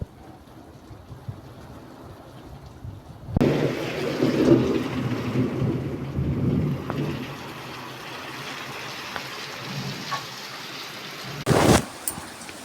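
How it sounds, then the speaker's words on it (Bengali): Rain falls outdoors as a steady hiss that swells in abruptly after a few seconds and keeps going, with a brief louder burst near the end. "এখন আমি যাচ্ছি বৃষ্টি দেখতে, কারণ আমার ভীষণ ভালো লাগে বৃষ্টি"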